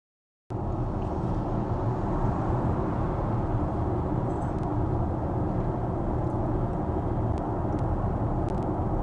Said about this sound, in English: you hear the HVAC maybe